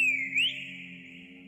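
Whistle in the video game Trollge, a clear high tone that slides down, breaks off, then slides up again and holds as a long steady note over a quiet low hum.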